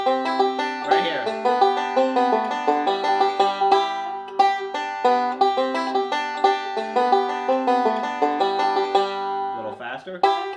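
A bluegrass banjo plays the A part of Cripple Creek with a melodic lick added, rolling bright picked notes in a steady driving rhythm, close and solo, with a short pause and slide near the end.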